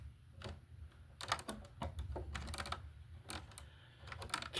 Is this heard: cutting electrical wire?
yes